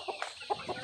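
Chickens and chicks in a backyard farm coop, a few short close clucks in quick succession.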